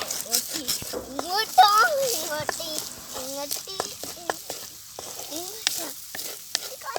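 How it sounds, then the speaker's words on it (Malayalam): Eggs sizzle and are stirred to scramble in a hot frying pan, with a steady fry hiss and scraping underneath someone talking excitedly throughout. "മുട്ട നല്ലതുപോലെ ചിക്കി പൊരിച്ചെടുക്കാട്ടോ"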